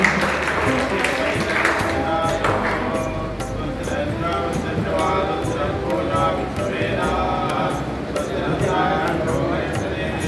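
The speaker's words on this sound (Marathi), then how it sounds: "आता सगळे भाविकांकडे जोरदार टाळी मारण्याचे" Devotees clap loudly in a crowd at a Sai Baba temple in Borim during a Datta Jayanti palanquin celebration, a dense, continuous patter of applause mixed with crowd noise and talking voices.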